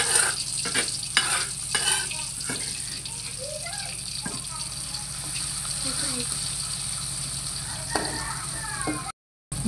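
Ground yellow spice paste for a fish pindang dish fries in a pan, giving a steady close sizzle broken by scraping stirring strokes throughout.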